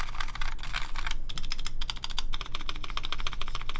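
A custom-built mechanical keyboard with stabilized keys is typed on steadily, giving dense, close clicks and clacks with only brief pauses.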